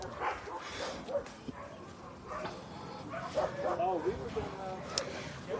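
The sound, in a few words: dogs barking at shelter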